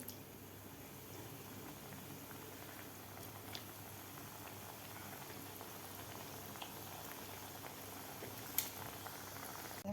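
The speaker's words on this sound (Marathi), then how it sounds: "आता बाकीसुद्धा आपल्याला राहिलेले अशा प्रकारे तळून घ्यायचे आहेत थोडे थोडे घालून" Shankarpali sweets deep-fry in a pot of oil with a soft, continuous bubbling. It is fairly faint and even, with a few small pops and one sharp tick late on.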